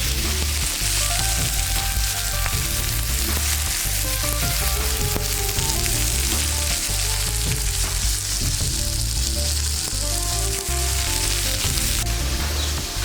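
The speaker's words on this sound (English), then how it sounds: "we're getting the bacon going over there" Bacon fries on a Blackstone griddle with a loud, dense, continuous sizzle and crackle that stays even throughout, with no voices over it.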